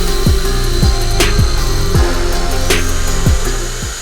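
A polisher spins a wet pad dry just above a System 4000 pad washer, giving a steady loud whir with repeated light knocks and taps before it winds down at the end.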